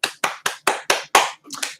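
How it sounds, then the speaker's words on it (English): A small group gives a short, sharp round of applause: about six crisp claps at an even pace, then a looser double clap at the end, close by and with no talking. "Clap for Daniel."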